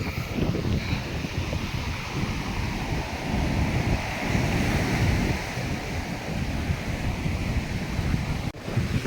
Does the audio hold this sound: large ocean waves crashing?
yes